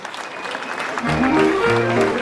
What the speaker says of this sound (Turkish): Evet, büyük bir alkış rica ediyorum lütfen